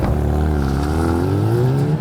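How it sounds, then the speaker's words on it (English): A 2018 Hyundai i30N engine revs up with a deep, rising race-style exhaust warble, loud and close, holding steady for a couple of seconds with no talking. "tune into the potent warble"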